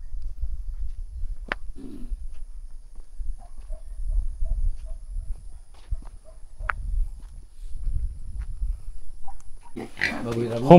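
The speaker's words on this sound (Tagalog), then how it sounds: "Wild pig." Wild pig on an organic strawberry farm in Bohol, grunting low and close in a few short snorts while people talk nearby and footsteps move about.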